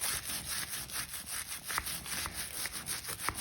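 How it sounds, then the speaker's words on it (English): A skinny grout and tile brush, wet with a powdered Tide and bleach solution, scrubs behind a covered wire in quick rhythmic strokes that are fairly faint and close. "you just wet it in that same powdered Tide and bleach formula, and then you can just scrub in behind there"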